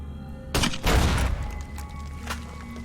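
A grenade blows up in the wasteland shooter Fallout: New Vegas. A sharp crack hits first and is followed at once by a loud, deep, rumbling boom that fades over a couple of seconds.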